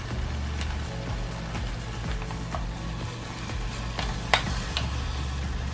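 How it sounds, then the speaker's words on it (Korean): Radish and meat stir-frying in a pan, a steady low sizzle with scattered scraping and clacking of a utensil against the pan, close and fairly quiet. "고기가 거의 익었으면 무 넣고 3분 정도 볶아주세요"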